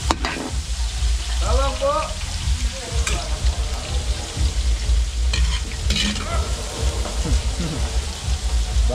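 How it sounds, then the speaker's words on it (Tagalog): Garlic, onion and ginger sauté in a pan for catering-size cooking, with a loud close sizzle, frequent scraping stirs and clatter, and brief talk in between. "Maluto yung bawang sibuyas natin. Gigisa lang natin."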